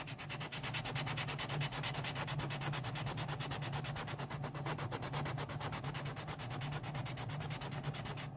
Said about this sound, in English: Now we'll get our 240 grit paper.